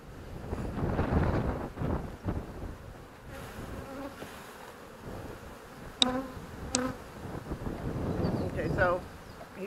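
Honeybees buzzing steadily around an open hive frame, a low soft hum under wind noise with brief close buzzing passes and some distant talk.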